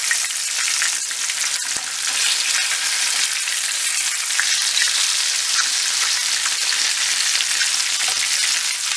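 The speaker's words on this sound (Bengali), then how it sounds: "এভাবে ক্রিস্পি করে ভেজে তুলতে হবে।" Chicken pieces fry until crisp in mustard oil over medium-high heat, giving a loud, steady, close sizzle that runs unbroken throughout, with one faint tap early on and no talking.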